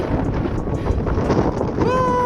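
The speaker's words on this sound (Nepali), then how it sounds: "एकदम दामी हावा आइरहेको छ" Wind rushes steadily across the microphone on a hilltop, a constant broad roar with a faint voice coming through near the end.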